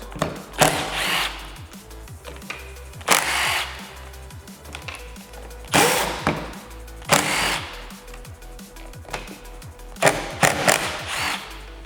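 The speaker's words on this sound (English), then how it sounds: "we're going to need an 8mm socket to undo the 4 nuts" A power tool with an 8mm socket undoes nuts on a steering wheel horn pad of a 79 Series Toyota, giving several loud whirring bursts, each roughly a second long, with clicks and pauses between them.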